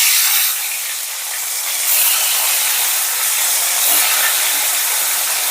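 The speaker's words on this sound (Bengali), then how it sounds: "এবারে আমি একে একে মাছগুলো ভেজে দিচ্ছি।" A loud, steady sizzling hiss that swells and eases slightly as shol fish are fried one by one in smoking-hot oil in a pan.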